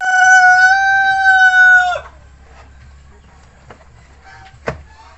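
A Rhode Island Red rooster gives a loud, clear crow lasting about two seconds, followed by quieter scattered clucks and small farmyard noises from the flock, with no talking.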